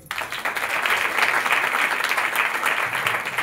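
A church congregation breaks into sustained, dense applause that starts abruptly and fills the room at an even, fairly loud level with no break.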